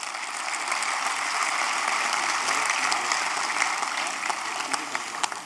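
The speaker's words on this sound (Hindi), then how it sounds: "आपको अच्छा लग रहा है तो एक बार आगे से पीछे तक तालियां बजाइए।" A crowd at an Indian poetry gathering breaks into sustained applause from front to back, a dense, even wash of clapping throughout.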